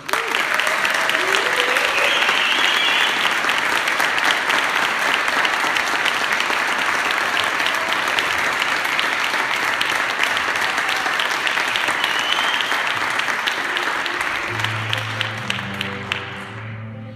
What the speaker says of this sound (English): please join me in a warm applause for Daniel Valdez